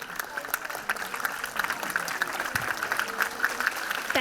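Scattered audience clapping at a music forum, moderate and somewhat sparse, mixed with a low background murmur and a voice speaking over it.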